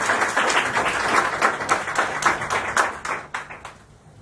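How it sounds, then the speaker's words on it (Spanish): A church congregation claps and applauds loudly together, a dense sustained burst of hand claps that holds steady before thinning out at the end. "Dale un aplauso bien fuerte al Señor."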